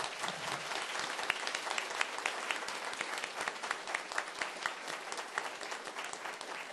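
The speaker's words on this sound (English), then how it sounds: "a round of applause for everybody and the ladies." Audience applause at a 2016 prize ceremony, with crisp individual claps standing out in a steady, moderately loud ovation from a modest crowd.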